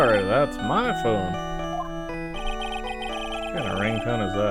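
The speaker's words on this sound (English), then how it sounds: "What kind of ringtone is that?" A phone ringtone from the Ace Attorney Trials and Tribulations video game plays a bright, tonal melody with warbling, voice-like swoops and sustained electronic notes, loud and continuous.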